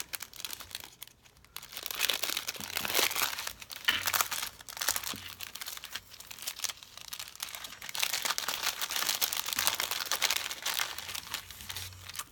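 Paper and plastic packaging for planner goodies, a decorative card among them, crinkles and tears close to the mic in a steady run of rustling, fairly quiet and with no talk.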